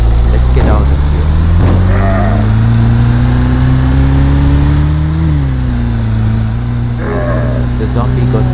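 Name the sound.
car engine revving as the car drives off, Roblox video game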